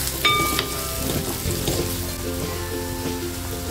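Chopped onion frying and sizzling in a pan with red chili powder, a steady close crackle throughout with brief faint metallic clinks near the start.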